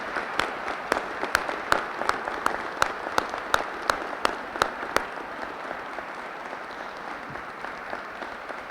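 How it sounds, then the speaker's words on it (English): A crowd at a Veterans Day ceremony applauds female veterans with a burst of clapping, sharp individual claps prominent at first, then thinning into a softer, scattered patter as it fades. "Our female veterans, please, a round of applause for them."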